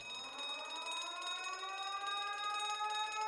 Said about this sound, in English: That sounds like an alarm.